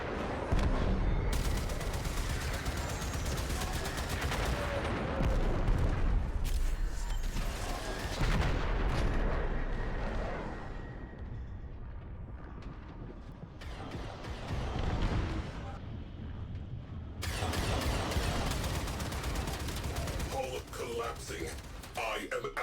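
Dense bursts of gunfire and explosive blasts in a Warframe firefight, loud and sustained in waves with brief lulls, while a player speaks over the combat.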